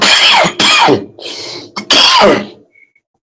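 Several harsh coughs and throat-clearing bursts close to the microphone, in quick succession with brief pauses, then silence.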